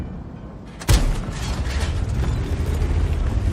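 World of Tanks T57 Heavy Tank cannon fire in siege mode, a single sharp loud blast near the start that trails into a rumbling, mechanical decay under a low steady engine drone.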